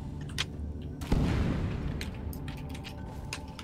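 A single loud boom bursts out and rumbles away in the game Deep Rock Galactic, with faint scattered cracks and pops before and after.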